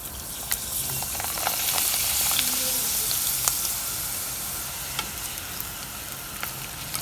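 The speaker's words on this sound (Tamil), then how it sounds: "நம்ம பொட்டேட்டோ ஃப்ரை பண்ண அதே ஆயிலில் அப்பளம் பொரிச்சு எடுத்துக்கலாம்" Papad (appalam) deep-frying in the same oil used to fry potatoes, giving a steady, fairly loud broadband sizzle with scattered sharp crackles and pops throughout and no talking.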